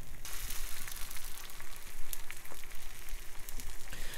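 Bacon strips frying whole in a pan, a loud close crackling sizzle with dense popping spatters, heard alone.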